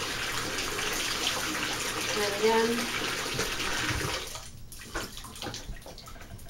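Hot tap water runs steadily into a basin for hand washing clothes, a continuous splashing rush under a man's speech that thins out and stops partway through, leaving scattered drips and small clatters.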